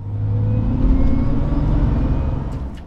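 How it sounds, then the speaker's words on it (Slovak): A steady supercharger whine rides over a low engine rumble, rising slightly as an Aston Martin DB7 accelerates, close and continuous for a few seconds. "tak to je zvuk toho kompresora"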